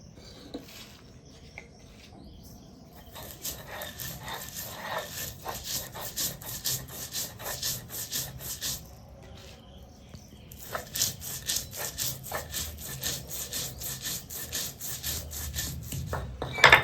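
White and black mustard seeds are ground with poppy seeds in a rhythmic, gritty back-and-forth rubbing. Grinding strokes repeat steadily and close by, with a brief pause near the middle and no talking.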